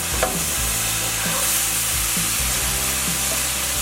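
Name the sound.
stirring and frying tofu in sauce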